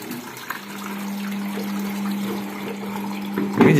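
Water being poured into an automatic washing machine, with a soft, steady splashing trickle over a constant low machine hum, close and moderately quiet, ending in a brief louder splash.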